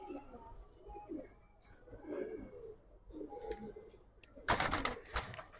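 Giribaz pigeons are handled close up. Soft coos and shuffling come under quiet talk, then a loud burst of wing flapping near the end.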